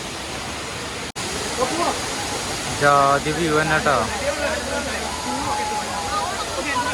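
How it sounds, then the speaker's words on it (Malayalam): Water rushes at Anachadi waterfall in a steady, loud wash that fills the whole scene, while someone speaks briefly near the middle. "ഇതാ വെള്ളം ഒഴുകി പോണു"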